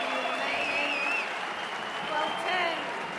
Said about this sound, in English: And the crowd have gone absolutely wild here.